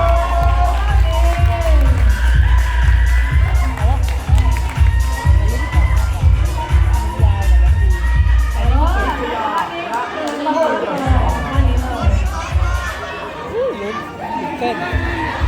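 A crowd at a band award announcement cheers and shouts for two bands, loud and sustained, with children's voices and chatter mixed into a busy babble and an announcer talking over it.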